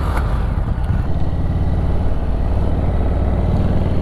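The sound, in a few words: motorcycle engine with open exhaust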